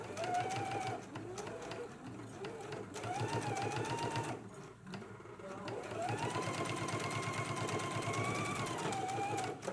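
A sewing machine runs close by, stitching a jacket sleeve band seam at a 5/8 inch allowance, a continuous rattling whir that dips briefly near the middle before resuming.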